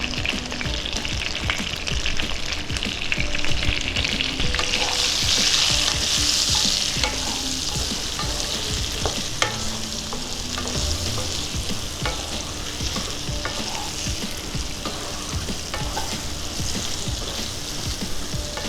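Eggplant pieces, seasoned with salt and turmeric, fry in hot oil with a constant close sizzle and crackle, plus occasional spatula clinks and stirring scrapes throughout.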